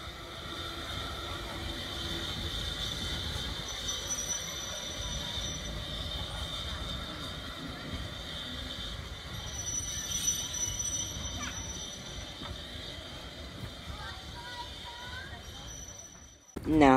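A steam locomotive rumbles steadily past at moderate distance on a demonstration line, with faint squealing wheels and a thin whistle-like tone, ending in a sudden loud burst.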